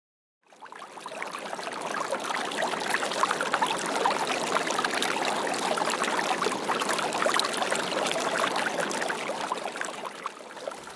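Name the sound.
flowing water of the Yaqui River, Sonora, Mexico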